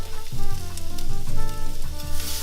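Ingredients sizzle and fry in olive oil in a pan with salt and pepper, a steady crackling hiss that runs close and continuous for the whole stretch, with no talk over it.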